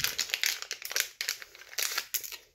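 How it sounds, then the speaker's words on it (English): Close, crinkly plastic rustling and scissors snipping a powder packet in short bursts, irregular and fairly quiet, with no voices. "I'm going to use the scissors so the powder doesn't go everywhere"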